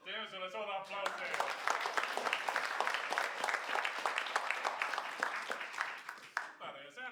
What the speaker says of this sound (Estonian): Teeme sulle suure aplausi.